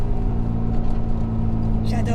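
An Opel Astra GSi's C20XE engine drones steadily from inside the car while driving, a loud low hum with a strong steady pitch; voices talk over it.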